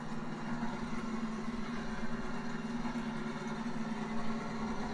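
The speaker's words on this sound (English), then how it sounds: "Well, the engines are fired." NASCAR Cup Series stock car engines idling together at the Bristol dirt race, a steady low rumble heard from a distance with no distinct revving.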